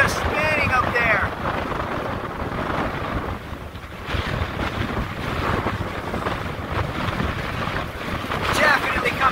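Powerful gusting wind of Tropical Storm Cristobal buffets and roars on Dauphin Island, Alabama, with water and surf noise beneath and a voice briefly heard over the storm.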